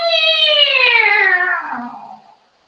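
A human voice imitates a cat's meow during a children's yoga session, a long wavering drawn-out call that slides downward in pitch and fades at the end.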